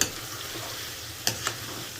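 Chicken fries in a hot pan with an even sizzling hiss close by, broken by two quick scraping stirs of a utensil near the end.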